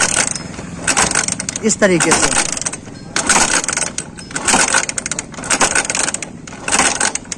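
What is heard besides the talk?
kick-starting a Bajaj Platina motorcycle that won't start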